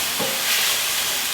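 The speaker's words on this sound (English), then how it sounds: "I'm going to be scraping the bottom of the pan" A spoon scraping and stirring the bottom of a pan of onion soup under a loud steady sizzle and steam hiss, close and continuous.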